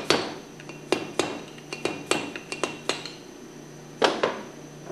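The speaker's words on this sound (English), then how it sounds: "the seal can be tapped out from the backside gently with a screwdriver" A screwdriver gently taps a seal out from the back of a Hypro centrifugal pump housing, giving about a dozen sharp metallic clinks at an uneven pace, close and clear, with no talking.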